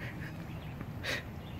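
Ducks quacking, faint and distant, with a few soft calls and one louder quack standing out near the end over a low outdoor hum.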